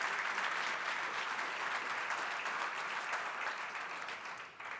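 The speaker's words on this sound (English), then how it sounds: "So a round of applause for yourselves and also for the hard work that these people do to make this happen." An audience at an induction ceremony claps in dense, sustained applause that fills the hall, holding steady before thinning out slightly toward the end.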